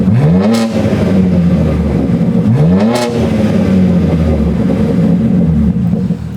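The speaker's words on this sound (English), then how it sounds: "Now you're gonna hear a little more burbles." BMW G80 M3 engine in M mode, revving twice with rising pitch and then settling into a rumbling idle with popping exhaust burbles, loud and close throughout, with no talking.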